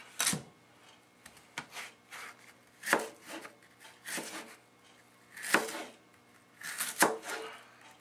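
A knife chops a pear firmly against a cutting board in uneven, spaced strokes, each a sharp crisp knock, with faint scraping in between and no talking.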